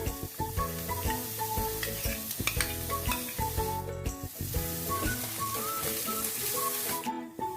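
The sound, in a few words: paneer and vegetables frying and being stirred in pan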